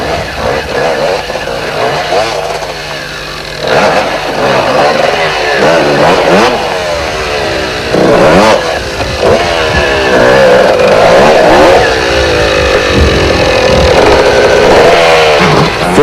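Off-road rally motorcycles in the 1989 Roof of Africa in Lesotho rev and strain over rough terrain, engines rising and falling in repeated bursts of acceleration, loud and close, with brief voices in between.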